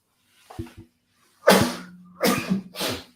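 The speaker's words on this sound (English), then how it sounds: "I'm about to sneeze." A few faint catching breaths lead into a sharp, loud sneeze, followed by two more forceful sneeze-like bursts close to the listener.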